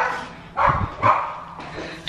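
A small pet dog gives two loud, close barks in an indoor room, followed by a fainter third yap.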